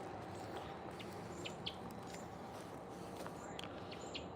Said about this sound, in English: We've got some birdies making noise back here. I think that might be a robin.